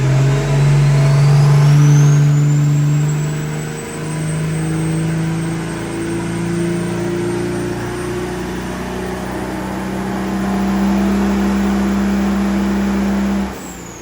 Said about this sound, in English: We're gonna load the engine up as if we were doing a burnout and see what it does for the exhaust temp